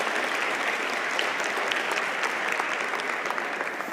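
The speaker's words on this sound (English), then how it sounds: "please join me with a big applause to our panelists for today" Sustained audience applause for conference panelists fills the hall, a dense, even wash of many hands clapping continuously at a steady level, with no speech over it.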